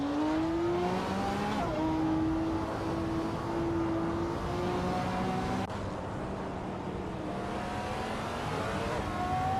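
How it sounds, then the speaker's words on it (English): Race cars in an AI car racing game, engines revving loud and close with rising and falling whines as gears shift, layered with other cars' engine drone and occasional tire squeal, sustained without pause. "Hope you're ready for some exciting AI car races today."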